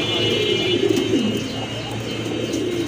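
A pair of Rajgolla pigeons cooing close by in a steady, low, throaty warble over background hiss and hum, with no clear speech.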